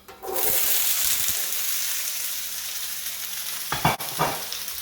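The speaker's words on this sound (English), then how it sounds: "I'm going to add some extra virgin olive oil to my pan. As you can see, it's nice and hot." Peppers frying in hot extra virgin olive oil in a pan over high heat give a loud, steady, close sizzle, with a couple of brief clattering bursts near the end.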